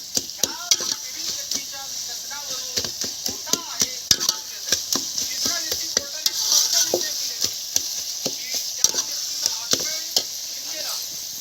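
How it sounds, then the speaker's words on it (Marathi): Masala for chicken biryani fries in a pan over a wood-fired chulha. A dense, steady sizzle runs beneath quick, repeated scraping strokes of a stirring spoon. "झाला आता मसाला चांगला फ्राय झालेला आहे बघा"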